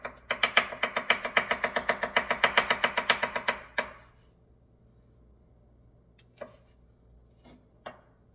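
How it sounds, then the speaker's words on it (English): A knife chops garlic in a quick, steady run of sharp taps on a cutting board for about four seconds, then stops, followed by a few isolated clicks and knocks in a quiet kitchen. "I forgot to chop some garlic."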